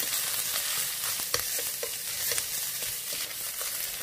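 Butterbur stalks stir-frying in perilla oil with a little water, spring onion and garlic, a loud continuous hiss of sizzling with a few sharp utensil taps against the pan, no voices.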